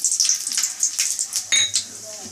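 Whole garam masala spices, cardamom, cinnamon, cloves, bay leaf, dried red chilli and cumin, hit hot oil with a brief loud crackling sizzle and clinks of a pan and spoon, close by.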